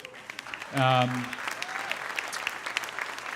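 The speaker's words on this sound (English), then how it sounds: "Clap it up" Comedy fundraiser audience applause continues under a brief loud harmonic blare near the start, then clapping carries on with some voices in the room.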